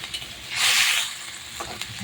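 Water poured into a pan of hilsa fish curry with mustard and poppy seed, a loud hiss and sizzle swelling briefly in the middle, then settling back to a low bubbling simmer.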